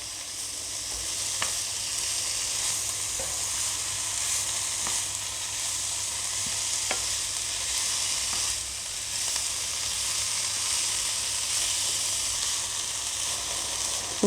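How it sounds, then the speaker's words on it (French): Oyster mushrooms fry over high heat with spices, a continuous bright sizzle broken by occasional sharp clicks and scrapes of stirring, close and steady with no voices. "Vous mélangez bien pendant toute la durée de la cuisson pour que vos champignons s'imprègnent bien des épices."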